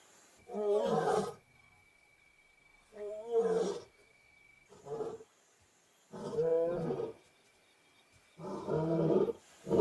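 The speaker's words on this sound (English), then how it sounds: "the roar can be heard over 8 kilometers away" Lion pride roaring at night, a series of six deep, resonant roars in separate bursts with quiet gaps between, fairly close and alone against a still background.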